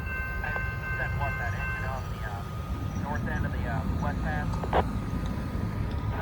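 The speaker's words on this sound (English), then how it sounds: "There she goes, grain train going down the hill." A freight grain train rumbles downhill past at a distance with a continuous low roll, while someone talks over the noise.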